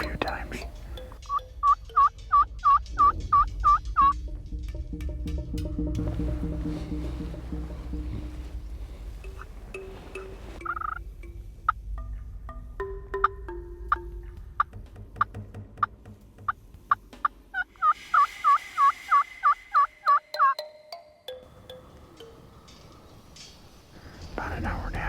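Wild turkeys gobble back to calls in spring woods near a creek, several rattling bursts sounding at moderate distance, with quiet stretches and faint whispered talk between them.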